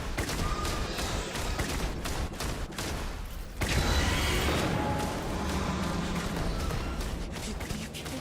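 Heavy gunfire rattles through a Starfield firefight, with bursts and volleys continuing across the stretch and a dense loud wall of shots in the second half, voices faintly mixed in.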